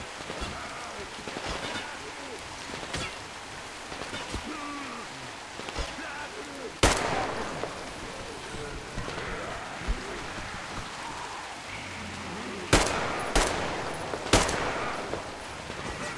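Gunshots in the video game Metro Exodus, a few sharp isolated cracks spaced apart over a rainy outdoor ambience, with a voice talking at times.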